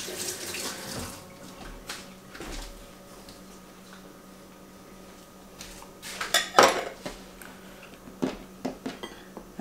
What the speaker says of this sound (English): Now, I'm going to have to wash my hands right quick.